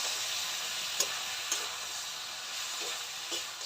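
Masala spices with ground coriander and a splash of water sautéing in a pan for a fish curry, a steady sizzling hiss with a few light stirring clinks, close and continuous, no voices.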